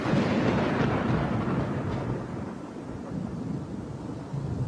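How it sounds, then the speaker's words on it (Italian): Strong wind storm with hail sweeping through Siracusa, a loud, continuous rushing roar buffeting the microphone, heaviest at the start and easing slightly toward the end. "Un vento fortissimo, una bufera durata pochissimi minuti."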